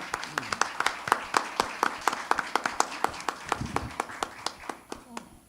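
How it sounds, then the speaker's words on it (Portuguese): An audience claps in a steady, rhythmic round of applause at a lecture, gradually thinning out and fading near the end. "Com vocês, Léo Cunha, para quem eu peço aplausos de boas-vindas."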